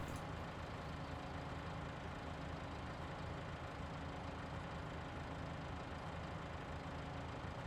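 A tractor engine idling in the farming game Cattle and Crops, a steady, even rumble that holds unchanged throughout at moderate level, with no talk.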